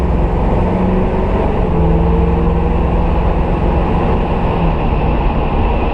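Interior of a 1979 Pontiac Trans Am while driving, a steady loud engine drone and road roar without change throughout.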